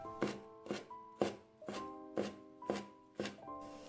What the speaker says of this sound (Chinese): 放在案板上给它切碎。 尽量切得碎一点。